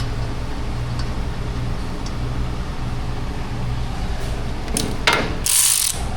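A ratchet tightens bolts during a budget exhaust repair on a car with hidden collision damage. Quiet steady mechanical ratcheting runs under background noise, ending in a few sharper clicks and a burst of noise, with no talking.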